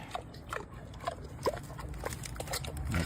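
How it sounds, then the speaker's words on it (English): A pig eating pineapple, with wet chomping, snuffling and soft grunts coming in uneven bursts close by over a steady background hum. "that's a nice pig enjoying a pineapple"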